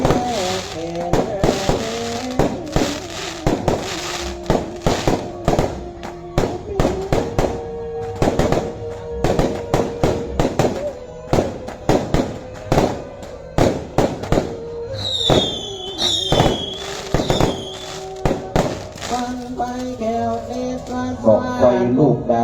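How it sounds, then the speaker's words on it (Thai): Bung fai rockets and fireworks go off at a Lanna festival, with loud repeated bangs and crackling bursts, a dense streak of pops later on, and a melodic drone running underneath. "บัดนี้บอกไฟดอกบอกไฟเทียนขึ้นสักการะบูชา"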